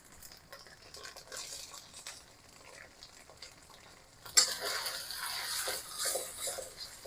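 Shallots dropped into melted coconut fat in a wok for green curry noodles, sizzling and scraped around, quiet at first then jumping to a louder, steady frying hiss midway with stirring clatter.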